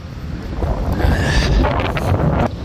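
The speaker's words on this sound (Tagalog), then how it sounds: "sobrang mahangin talaga." Strong outdoor wind buffets the microphone in loud, rumbling gusts that swell and roll for the whole stretch, with no voices over it.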